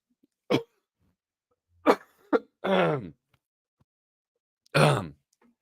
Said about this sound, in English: Pardon my disgusting hacking cough.